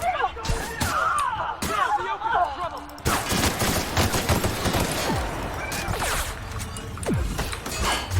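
Gunfire in The Outer Worlds, loud rapid bursts of shots and impacts with mechanical clatter, dense and continuous, with a voice speaking over it.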